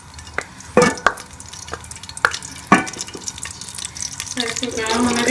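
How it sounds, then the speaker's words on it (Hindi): Ghee goes into a hot pan on the stove, preceded by a few sharp clanks and knocks, then a rising soft sizzle and bubbling toward the end. "इसके अंदर मैं घी डाल दूंगी।"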